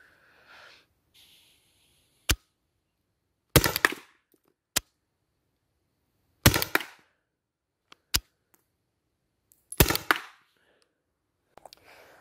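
Loud, sharp shots from an HDR 50 defence revolver fired indoors, five or six separate reports spaced a second or two apart, each a crisp bang with a short tail and near silence between.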